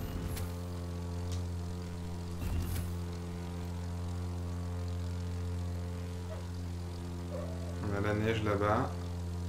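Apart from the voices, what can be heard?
airplane engine in video game The Crew 2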